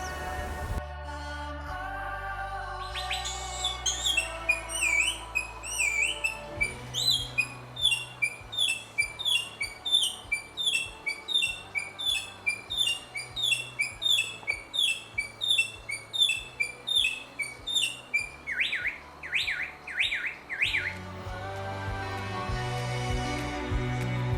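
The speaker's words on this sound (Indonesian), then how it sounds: "tagline Kelimutu, surga burung berkicau" Endemic forest birds sing at Kelimutu: repeated bright chirps and warbles in quick rhythmic bursts, layered over sustained low tones, fairly clear and continuous with no talking.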